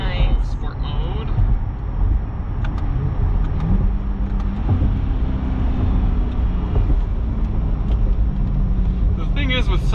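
A 2021 Chevrolet Corvette Z51 in sport mode on cold summer tires, its engine a steady, close rumble throughout with faint higher whine, while someone talks over it.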